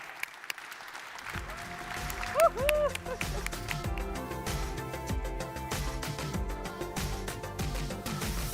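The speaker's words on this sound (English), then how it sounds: "So please give a big round of applause to them" Applause from a conference audience at a live-streamed tech event, steady broadband clapping that starts abruptly after a quiet moment and continues through, with some background music or tones and a voice briefly heard.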